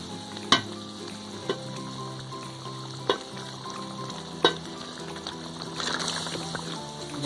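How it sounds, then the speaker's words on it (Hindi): Beef karahi sizzles steadily in a pan with garlic and masala frying, while a spoon scrapes and taps the metal a few times and the sizzle swells near the end. "देखिए ये हमारा मसाला लहसुन तकरीबन भून चुका है"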